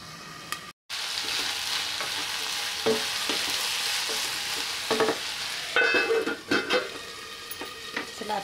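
Corn cooking in a pan with a little turmeric, steaming before the masala is made; a steady close sizzle and frying hiss runs throughout, with soft stirring scrapes and a brief dropout near the start.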